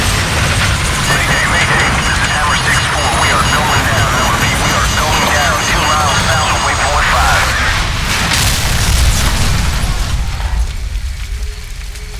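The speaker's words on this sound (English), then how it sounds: "Incoming missile!" An incoming missile explodes in Call of Duty 4: Modern Warfare, a loud, dense roar of blast and rumble that fills the whole stretch before thinning at the end, with voices shouting under it.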